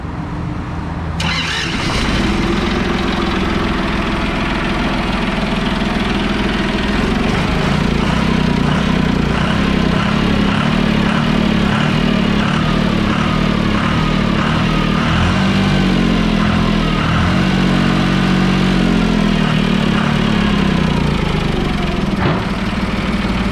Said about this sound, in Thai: เดี๋ยวผมสตาร์ทให้ดูนะครับทีเดียวก็ติดครับคันนี้